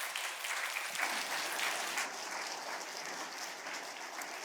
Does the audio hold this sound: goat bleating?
no